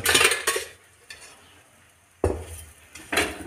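Sweet bobbatlu made with chana dal and jaggery cook in a hot pan and are flipped. Close scraping and clinking of a utensil against the pan comes in short bursts, with a faint sizzle underneath.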